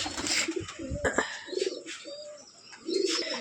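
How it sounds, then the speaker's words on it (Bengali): White pigeons coo in several soft, rounded phrases at close range, along with a few brief chirps and faint wing rustles. "আপনি সাদা কবুতরগুলো একটু দেখান দেখি"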